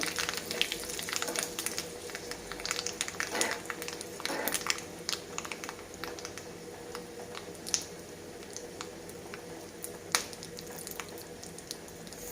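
Dry red chilli pieces and urad dal fry in hot oil for a tempering, a soft, continuous sizzle with scattered small pops and crackles, close by and without speech.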